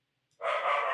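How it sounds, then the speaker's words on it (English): A dog barks loudly nearby during a tabletop board game session, the sound starting abruptly about halfway through and continuing to the end. "My dog is barking."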